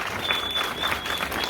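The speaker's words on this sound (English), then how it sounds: "a big round of applause" Film festival audience applauding at a Sundance screening, a steady dense wash of clapping from a full room that runs evenly before cutting off abruptly.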